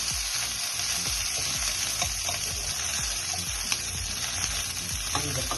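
Green and dried chilies fry in a pan of oil, a loud, continuous crackling sizzle with occasional soft stirring taps and no talking.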